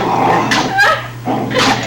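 Two or three sharp barks, loud and close, with a low steady hum underneath and no talking.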